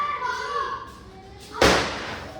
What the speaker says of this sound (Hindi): और बच्चे पटाखे छुड़ा रहे हैं बहुत ज़्यादा।